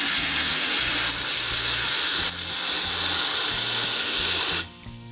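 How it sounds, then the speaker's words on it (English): Water runs steadily from a tap into a 3-gallon bucket for a JADAM microorganism solution, a loud continuous hissing gush that cuts off near the end, with no talk. "So we'll just fill it up with 3 gallons."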